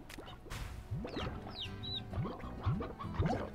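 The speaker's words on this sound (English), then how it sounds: "Chickens! I need the hen hens!" Hen chickens in the game Slime Rancher give soft, repeated clucks and short calls, several in a row, at moderate distance with no speech over them.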